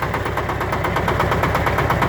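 A small engine of a Shifeng SF-350L belt-driven mini tractor runs steadily nearby, a loud rhythmic chugging with a constant mechanical hum and no talking.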